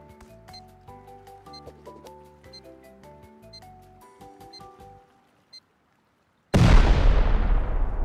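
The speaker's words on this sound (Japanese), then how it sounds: "C4 で爆破してみます。" In the video game Rust, C4 explosives blow up an elevator. Several seconds of background music with a ticking beep end in silence, then one loud, close, sustained blast that keeps booming to the end.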